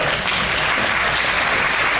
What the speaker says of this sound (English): give those folks a round of applause if you would